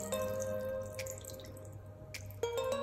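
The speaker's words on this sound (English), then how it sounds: "all I'm going to do, I'm going to pour it on top, just like that" Meat juices poured over pork on a grill give a close, steady trickle and drip of liquid running under a constant low hum, with a few brief louder splashes.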